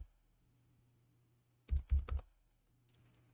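Computer keyboard keys pressed in a short cluster of three quick clicks after a quiet pause, followed by a faint single tap.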